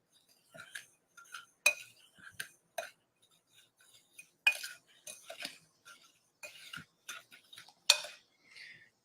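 Spoon stirring a dry white bath fizzy mixture in a bowl, a series of sharp scraping clinks and taps at an irregular pace, close and fairly quiet with no talking.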